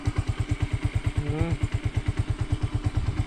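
A five-month-old 150cc Baige motorcycle idles steadily, its engine thumping in a fast, even putter close to the listener, with a brief rising whine partway through.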